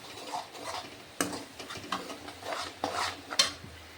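Tomato sautés with onion, ginger and garlic paste for a Bengali katla kalia, heard as rhythmic spoon strokes scraping the pan over a faint sizzle.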